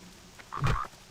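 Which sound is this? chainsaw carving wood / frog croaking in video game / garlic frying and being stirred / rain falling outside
frog croaking in video game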